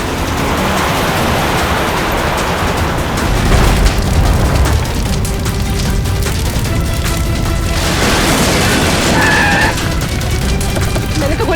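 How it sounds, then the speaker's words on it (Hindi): Car bomb explosion in a Hindi crime drama scene, a heavy boom and rumble over dense noise, followed by sustained crackling debris and roaring burn, loud and close with no voices. "लगता है इसकी गाड़ी में किसी ने बॉम्ब फिट कर रखा था।"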